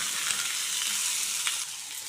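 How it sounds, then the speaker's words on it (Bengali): Boiled elephant foot yam and potato, cooked earlier with turmeric and a little lemon juice, frying lightly in a pan; a steady, even hiss of frying runs throughout, fairly close, with no talk. "এবার এটাকেও কিন্তু খুব সামান্য একটু হালকা করে ভেজে নিতে হবে।"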